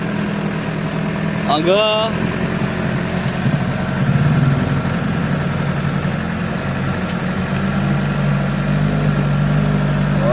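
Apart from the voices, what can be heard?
trail motorbike engine idling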